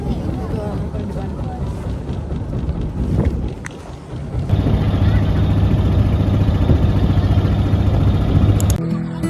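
A boat moving on the sea, heard from its rear deck, with gusty wind buffeting the microphone over a constant engine drone; people chat throughout, and the wind and engine grow louder midway.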